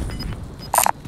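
A frag grenade goes off in Call of Duty: Warzone, a short low boom with a brief bright burst, heard against quiet game background.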